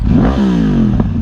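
A 2012 Yamaha R1 1000cc motorcycle engine revs up hard, pitch climbing then holding a steady high drone, loud and close with no talking.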